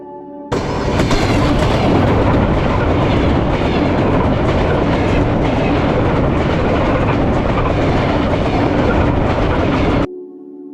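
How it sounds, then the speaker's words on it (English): A train rolls along a railway line carrying workers near the Chernobyl nuclear power plant, a loud, steady rumble with rhythmic clickety-clack of wheels that starts abruptly and cuts off near the end. "This railway still carries workers in and out of the nuclear power plant on a daily basis"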